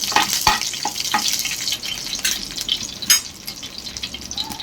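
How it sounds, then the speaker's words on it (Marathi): Fenugreek seeds and curry leaves sauté in hot oil over medium gas, giving a steady crackling sizzle with several sharp pops and spits, close and moderately loud, with no voices. "मीडियम गॅसवर एक चमचा मेथी दाणे टाकून घेऊ त्यामध्ये कढीपत्त्याची पानं टाकून घेऊ ती परतवून घेऊ"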